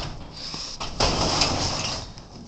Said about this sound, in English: Door gets heavier and heavier.